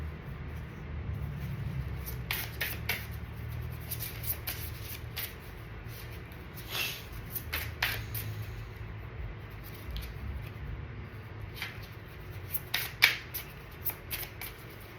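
Bulky oracle cards are shuffled by hand, close and fairly quiet, in intermittent bursts of riffling, slapping and sliding over a low background hum, with no talking.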